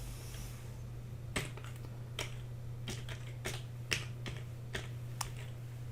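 Computer keyboard typing in a quiet room, a dozen or so sharp separate key clicks at an uneven, unhurried pace over a steady low electrical hum.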